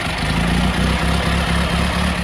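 An old car engine recorded for Mafia: The Old Country idles with a loud, unmuffled, low pulsing chug, close and steady throughout with no talk.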